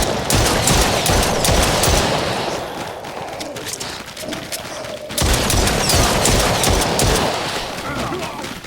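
Rapid, loud gunfire fills the VR wave shooter The Brookhaven Experiment, dense bursts of shots and booms running almost continuously with a brief lull in the middle, while a voice exclaims over the top.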